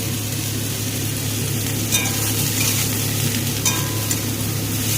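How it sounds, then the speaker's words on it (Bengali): Mushrooms fry in hot oil with a loud, continuous close-up sizzle and crackle, broken by a couple of brief clinks of a utensil against the pan. "এইবার দিয়ে দেব মাশরুমটাকে ভেজে তুলে নেব"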